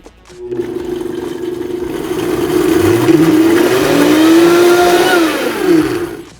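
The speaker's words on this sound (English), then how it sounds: "We'll go ahead and blend this on high." Blender running on high through chili oil and red miso, a loud steady whirring motor that climbs in pitch as it spins up, then wavers and dips near the end before stopping.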